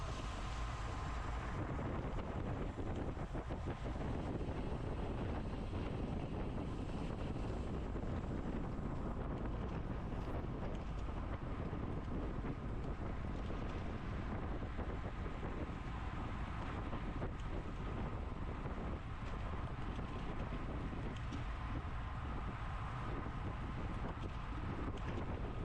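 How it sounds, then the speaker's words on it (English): Breezy wind buffets an outdoor microphone beside a road-race course, a steady loud rumble that holds throughout with no break. "it does get a little breezy through here though"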